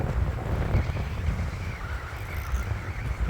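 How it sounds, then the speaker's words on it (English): A headwind blows across a hilly disc golf course near pine trees, a steady low rumbling buffet of wind against the microphone with no voices. "And there's the wind I was talking about. Perfect headwind here."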